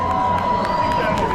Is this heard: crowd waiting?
yes